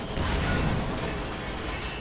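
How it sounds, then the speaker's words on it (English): Mortar fire in the real-time strategy game Company of Heroes 2, with a dense, steady roar of battlefield explosions and booms filling the whole short stretch at high volume. "Mortar round failed to penetrate."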